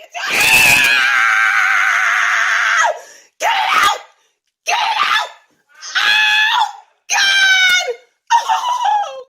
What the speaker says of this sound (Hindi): वो इस कदर चिल्ला रही थी मानो उसके घर छोटे से गिलहरी नहीं बल्कि एक गॉडजिला घुस आया हो